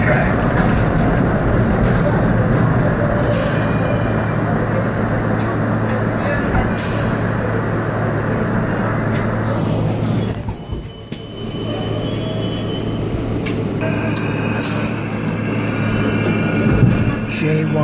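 An R32 subway train on the New York J line rolls along steadily with a loud, continuous rumble and hum; wheel squeal rises near the end, and faint voices come through at times.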